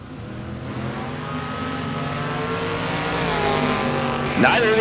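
A 1969 Camaro drag race car at a drag strip builds a loud, continuous engine roar that rises steadily in pitch as it accelerates, with a sharp burst of higher noise near the end.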